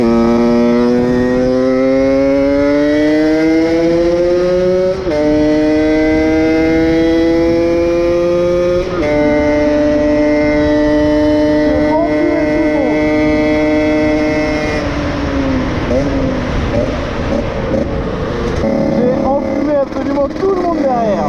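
A Yamaha DT 50cc two-stroke motorcycle, tuned with a 77cc kit, accelerates hard out of a corner. Its loud, rising whine climbs through several gear changes up close, with a rider's voice faintly under it.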